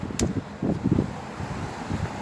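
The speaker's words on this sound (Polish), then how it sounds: "przez ten wiatr nic nie słychać" Steady low rumbling buffets of wind hitting the microphone on a town street in Ryn, Poland, loud and continuous, with no voices.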